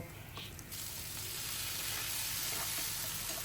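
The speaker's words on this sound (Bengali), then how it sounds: "সব মশলার সাথে একটু ভেজে নিচ্ছি" Broiler chicken fries in a pan with chopped onion, ginger, garlic and spices for a kala bhuna curry, giving a steady loud sizzle and hiss with a brief stir or scrape near the start.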